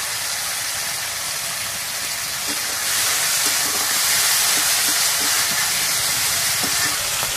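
Masala with tomato paste and salt sizzles and hisses steadily in a hot pan, a dense continuous frying noise with occasional small pops, close and fairly loud, with no talk.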